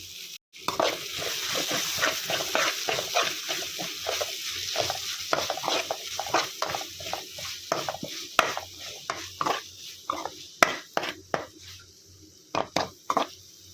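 A spoon stirs tomato, onion and ginger-garlic paste in a pan for bottle gourd charu, making rhythmic, close scraping strokes over a light sizzle that turn into sparser, sharper knocks near the end.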